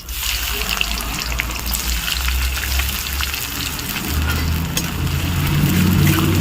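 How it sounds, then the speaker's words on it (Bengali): Onion fries in hot oil in a pan with cinnamon, cardamom and cloves while being cooked to a reddish brown for mutton curry with mango leaves and taro. The loud, steady sizzle crackles without a break. "পেঁয়াজটা বেশ একটু লাল লাল করে ভেজে নেব"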